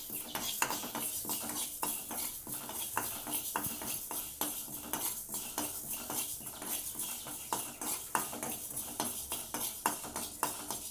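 Fenugreek seeds being dry-roasted and stirred in a pan for homemade sambar powder, heard as steady scraping and light clinks of a spoon against the pan. The rhythmic taps stay close and moderately quiet, with no voice over them.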